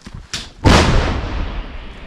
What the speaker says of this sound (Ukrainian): Вогонь, вогонь. Гармата.